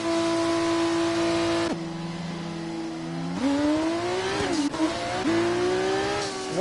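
A Civic race car at speed around Monza in a racing video game, its engine droning steadily, then dropping on a downshift and climbing again through repeated gear changes, loud and continuous with no talk.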